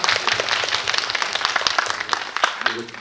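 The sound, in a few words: audience applause for a questioner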